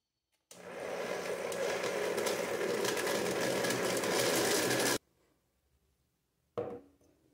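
An electric blender whirs loudly for about four and a half seconds, blending fruit with milk into a smoothie, then cuts off abruptly, and a short second burst starts near the end.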